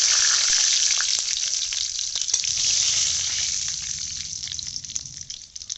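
Dry red chillies, panch phoron and bay leaves frying in hot oil give a loud, bright, steady sizzle with light crackles and scattered pops that slowly settle.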